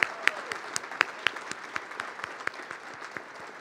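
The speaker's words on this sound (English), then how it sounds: "Just another round of applause to everyone here." Applause at a girls and women in sports luncheon, a thin, steady patter of hands with a few sharper, louder claps standing out, fairly near, with no talking over it.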